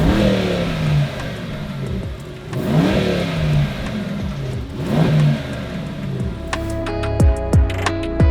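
A supercharged Mercedes C63 is revved as it drives off on a cold day: loud, close engine surges rise and fall about three times, ending in a sharper burst of rising revs with some mechanical clatter.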